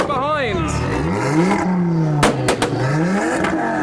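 A Ford car's exhaust revs in a crowded outdoor setting with a crowd nearby, engine pitch sweeping up and down in loud close bursts, with sharp pops and crackles midway and voices mixed in underneath.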